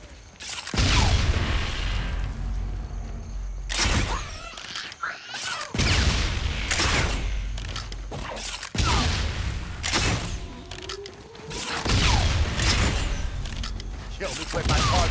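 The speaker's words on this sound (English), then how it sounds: "charge the statue with the normal crossbow explosions" Repeated booming video game crossbow bolt explosions in bursts, each a loud thump followed by crackling debris, separated by short pauses of quieter background.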